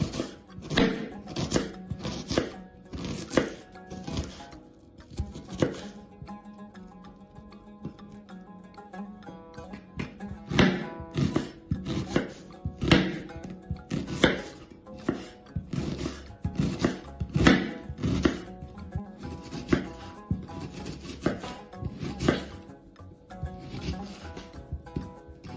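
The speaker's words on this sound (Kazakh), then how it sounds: "Ең алдымен жуаны турап аламыз." A knife chops onion on a board in quick rhythmic bursts of sharp close knocks, broken by short pauses between runs of cuts.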